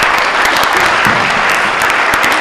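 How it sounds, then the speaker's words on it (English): Audience applause at a community college education summit, a dense, steady wash of many hands clapping close and loud throughout, with no voices over it. "Let's give her a round of applause, guys."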